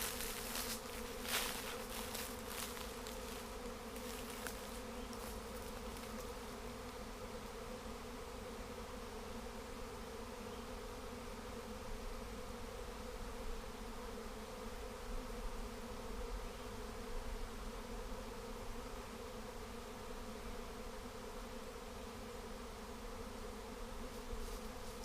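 A large honeybee swarm buzzing outdoors, a dense, steady drone that holds loud and close throughout with no voices.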